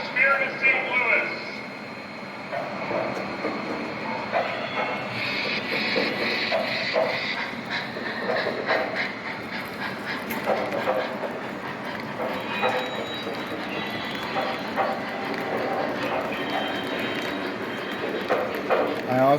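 A model train, the Spirit of St. Louis, sets off with steady rolling clatter and rail noise throughout, while a voice talks over it at times.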